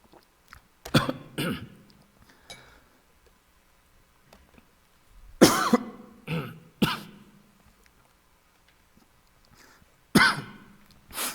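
A preacher coughs during a Sunday evening church sermon, giving several short, harsh coughs and throat-clearings in separate bursts, with near silence between them.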